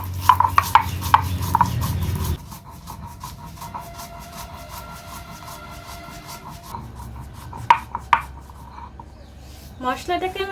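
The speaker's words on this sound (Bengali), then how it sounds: "মশলাটাকে এবার আমি গুঁড়ো করে নেব" Roasted spices for a Bengali yogurt chicken being ground by hand, a rough repeated grinding and rubbing with sharp scraping strikes at the start and again near the end, over a steady low hum.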